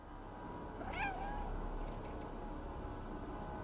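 Cat meows in a video game, one rising, warbling call rising clearly above a steady dense background of game music and ambience, moderately loud and close.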